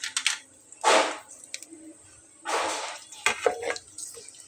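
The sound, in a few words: potato chips frying in hot oil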